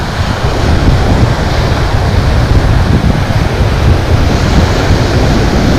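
Strong wind buffets the shoreline with steady surf rolling in, a loud continuous roar filling the scene with no talking.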